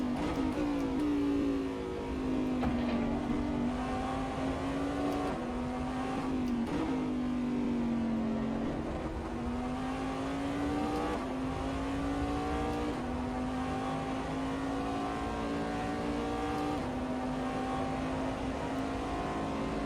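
A Corvette race car engine in a racing video game drones steadily, rising and falling with gear changes and throttle, loud and close for the whole stretch with no voices.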